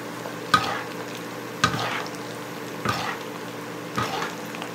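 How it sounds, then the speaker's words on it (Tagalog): Breakfast frying and sizzling in a pan, stirred in four distinct scraping strokes at a steady pace, close and clear with a constant sizzle underneath. "inahalo-halo ko ng ganyan guys para hindi siya masunog"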